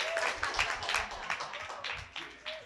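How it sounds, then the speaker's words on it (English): An audience applauding at a start-up pitch event: a brief, thin patter of scattered handclaps, with a voice faintly audible alongside. "give a big round of applause for All Tails Wagging and Jamie"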